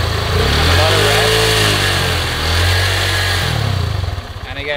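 Honda semi-automatic motorbike engine revving hard and steadily with the clutch half engaged, a loud sustained drone for most of the clip that eases off near the end.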